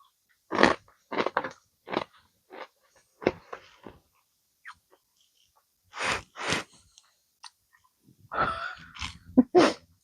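Someone bites and chews volcanic porous candy, short crunchy bites and chewing bursts scattered between pauses, close and fairly quiet, with some breathing.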